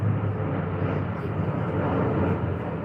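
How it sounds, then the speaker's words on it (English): Low steady roar of a Boeing 777 airliner passing overhead, a continuous broad rumble with no breaks, moderately loud and somewhat distant. "Alright, sounds like a big plane to me"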